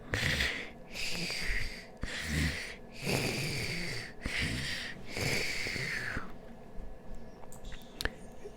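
A voice imitates snoring: several drawn-out, wheezy snore sounds in a steady rhythm, close and fairly loud, then a quiet pause.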